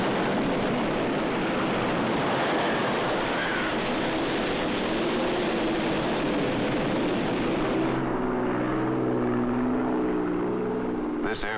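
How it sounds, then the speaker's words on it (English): A propeller weather-reconnaissance airplane heading toward a hurricane drones steadily through the whole stretch, loud and constant, with the engine tone shifting slightly near the end. "This airplane is heading toward a hurricane."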